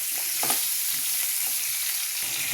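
Spice masala of turmeric, chilli, cumin and coriander powders with salt, green chillies and tomato fries in oil, a dense continuous sizzle with faint stirring scrapes, close and steady with no voices.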